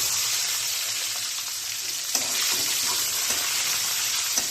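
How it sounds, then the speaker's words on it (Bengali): Eggs coated with salt and turmeric fry lightly in a wok, giving a steady, close sizzle with a few soft clinks and scrapes and no talking. "হালকাভাবে একটু ভেজে নেব।"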